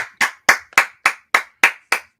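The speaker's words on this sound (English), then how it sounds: "clapping." Nine crisp, evenly spaced hand claps in a steady rhythm from an audience at the end of a coffeehouse concert, loud and close with silence between them.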